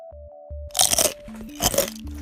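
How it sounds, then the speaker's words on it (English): Crisp crunching bites in two loud bursts, close up, with short steady tones around them. "now your dinner comes with sizzling sounds, crunchy bites, and whispers of "so crispy.""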